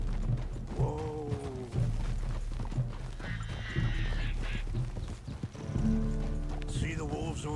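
A horse in the Red Dead Redemption 2 video game clip-clops along at a steady pace with a loud neigh or whinny, while a voice sounds over the hoofbeats.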